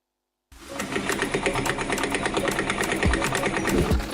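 A sewing machine starts after a brief silence and runs steadily, a close, loud, rapid mechanical chatter of stitching that keeps an even rhythm throughout.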